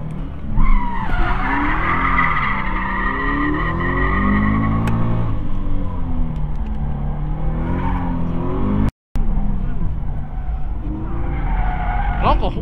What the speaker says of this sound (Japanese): なんか本当にリアが結構出ますね。テールハッピーですね。